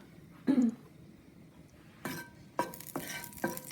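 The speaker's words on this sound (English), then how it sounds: "Greens, and we're gonna fry them first." Collard greens fry in oil in a pot, with a short sizzling burst early on, then a pause, then several bursts of stirring and sizzling close by.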